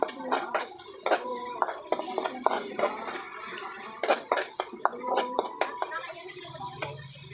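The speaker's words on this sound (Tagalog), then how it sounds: "Tapos haluin natin." Chop suey stirred in a wok with pepper added, frequent metal utensil scrapes and clinks over a soft sizzle, with someone talking throughout.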